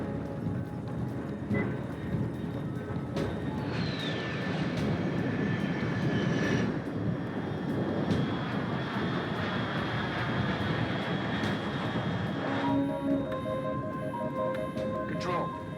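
Aircraft engine in the Metal Gear Solid Delta video game: a steady, loud broadband roar that holds throughout, with a faint rising whine partway in and game tones near the end.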